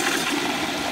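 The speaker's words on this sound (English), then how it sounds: "let's give it a flush." A Kohler Stanwell urinal flushing up close: a loud, steady rush of water with swirling turbulence that fills the whole moment, no voices.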